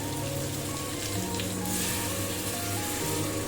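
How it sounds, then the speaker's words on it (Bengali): Hot water poured into browned chicken curry in a pan, giving a steady, close rain-like sizzle and hiss that runs evenly throughout with no talking. "আমি কিছুটা পরিমাণে গরম জল করে রেখেছিলাম, সেইটা এখন এর মধ্যে আমি অ্যাড করে দিচ্ছি"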